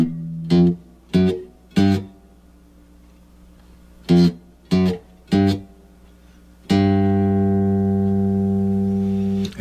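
A bass guitar plays a funk break: six short plucked notes in two groups of three, then one long sustained note ringing out to the end, loud and alone with no talking.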